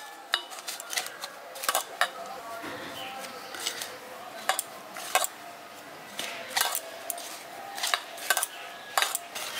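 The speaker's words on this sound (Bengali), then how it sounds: "এবার এটা ঘিটা দিয়ে আর নুনটা দিয়ে ভালো করে আগে মিশিয়ে নিচ্ছি।" A spoon clinks and scrapes against a metal bowl while flour is mixed with ghee and salt for gujiya dough, in quick, irregular taps and scrapes close by.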